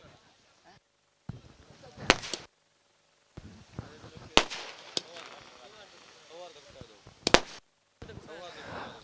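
Firecrackers set off at a final-match ceremony of a local tournament: three sharp, loud cracks spaced a couple of seconds apart, with crowd chatter and voices between the bangs.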